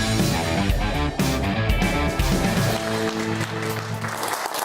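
Studio audience applause on the set of a British television talk show, loud and continuous with steady clapping, over music.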